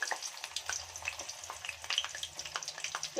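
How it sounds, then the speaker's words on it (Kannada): Sliced onion frying in hot oil, a close, busy crackling sizzle with dense popping spatters and a faint low rumble underneath, steady throughout with no voices. "ಚೆನ್ನಾಗಿ ಈರುಳ್ಳಿನ ಫ್ರೈ ಮಾಡ್ಕೊಳ್ಳೋಣ"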